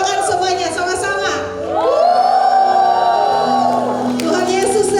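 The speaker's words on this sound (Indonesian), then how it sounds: "Sorakan semuanya sama-sama." A church congregation at a senior community worship service cheers and shouts together in a loud, sustained crowd roar that swells and then eases after a few seconds.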